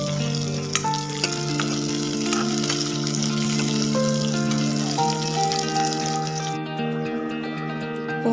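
Raisins fry in refined oil in a pan while a vegetable pulao is being prepared, giving a continuous bubbling sizzle close by under a faint background tone, with no one talking.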